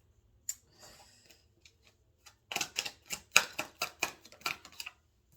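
Tarot cards are pulled out and handled, with a few soft scattered taps and rustles at first, then a dense run of crisp clicks and riffling snaps, close by, with no talking.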